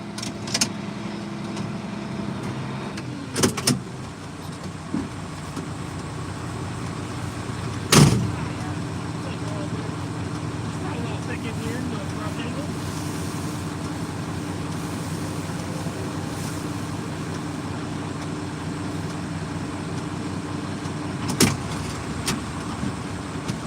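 A John Deere 3688 tractor raking hay in a field runs with a steady, continuous engine drone throughout, with a few brief knocks and clunks along the way.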